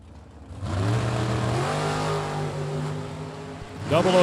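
A drag race launch between a Chevrolet Camaro and a 2018 American chassis dragster, a sustained loud engine roar with rising revving harmonics that sweep up at the start and again near the end.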